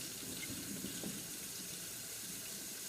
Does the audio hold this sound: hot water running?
yes